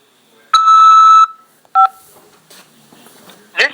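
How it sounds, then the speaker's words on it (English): A telephone keypad sends DTMF tones to accept an incoming call from a corrections facility. One long tone is followed by a shorter tone, and then come brief clicks and faint noises, loud and clear. "press 5 to accept this call."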